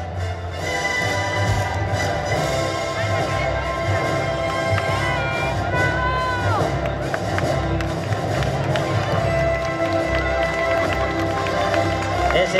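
A dense crowd claps continuously at an outdoor running festival in Burgos, a steady wash of applause mixed with background music and murmuring voices.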